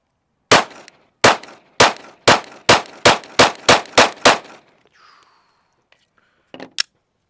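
A Glock 43X fitted with a Radian Ramjet fires SuperVel 115 grain rounds at 7 yards: nine loud, sharp shots in a quick, even string, then a pause and one final crack.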